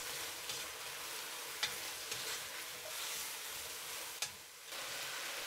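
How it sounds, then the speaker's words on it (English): Beef in seasoning sauce sizzles in a wok over medium heat for stir-fried Mongolian beef noodles, a quiet steady hiss broken by a couple of sharp metallic scrapes from stirring. "Turn to medium heat, put the beef. Stir for 20 seconds."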